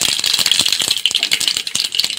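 Mustard and cumin seeds spluttering in hot oil as a tempering for a brinjal and prawn dish, a loud, dense, close crackling rattle of rapid pops without pause.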